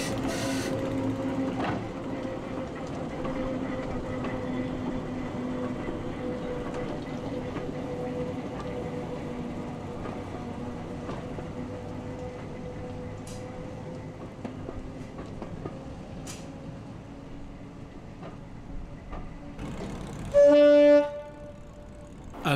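A Class 11 locomotive hauling a railway coach rumbles steadily along past Butterley Box with a low engine drone, and near the end a loud horn blast sounds briefly.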